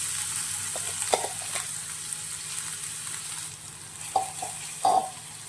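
A ground paste of chili, cumin and garlic fries in a pan for North Karnataka junka, giving a steady soft sizzle with a few brief scraping stirs and clinks near the end.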